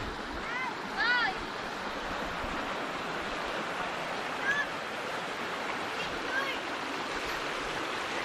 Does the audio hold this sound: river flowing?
yes